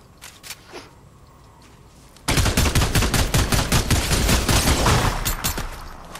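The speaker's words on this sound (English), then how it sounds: "I think he's getting shot at." Dense video game gunfire bursts in abruptly after a quiet stretch, rapid overlapping shots rattling on loudly and continuously for several seconds before easing slightly toward the end.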